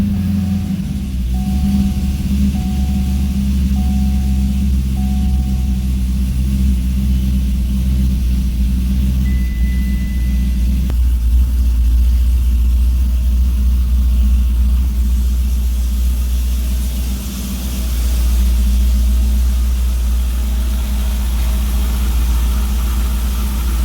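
Cadillac CTS-V engine idling steadily with a deep, continuous rumble, close and loud throughout with no talking; the moment of starting is not evident.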